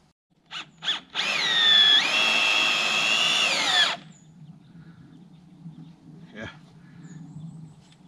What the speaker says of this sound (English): I'm gonna put in some screws to hold it all in place